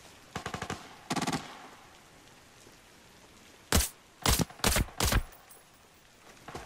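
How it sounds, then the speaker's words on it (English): Sniper gunfire in the game Arena Breakout, two short bursts of rapid cracks followed by several loud separate shots fired in quick succession, close and without talk. "Just shot a guy from very far away"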